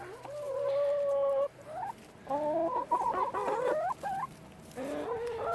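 Backyard chickens clucking and calling around their coop, several birds overlapping in drawn-out tonal clucks and squawks, fairly close, with short pauses between bursts and no talking.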